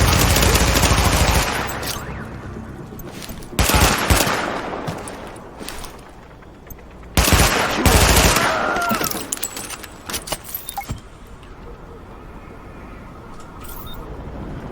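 Gunfire in The Division during a Brooklyn mission: loud bursts of automatic shots in several volleys separated by quieter stretches, with scattered single pops and clatter toward the end.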